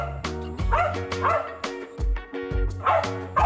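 A dog barks repeatedly at close range in a home setting, a series of loud, uneven yips and bow-wows with short gaps between them.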